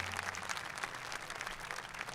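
Audience applause for Burkina Faso police and security forces at a comedy show, a steady, even wash of clapping that fills the whole stretch at moderate level over a faint low hum.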